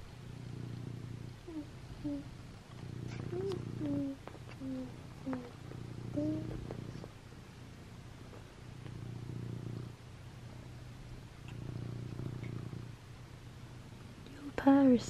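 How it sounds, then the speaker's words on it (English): A cat purrs in soft, rhythmic rumbling pulses close by, with a few brief chirps and a sharper squeak near the end. "Your purr is so loud."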